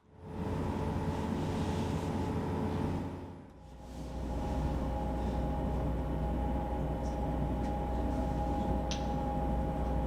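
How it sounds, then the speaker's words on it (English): A passenger train rumbles steadily along the rails from inside the carriage, a continuous low drone with a brief dip partway through. "So we're on the train on our way to Newquay."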